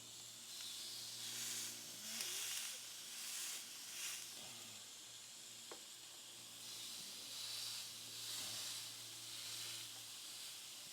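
Bacon-wrapped filet mignon steaks sizzle on a Ninja Woodfire Grill, a steady faint hiss that swells and fades in soft waves, with occasional light pops.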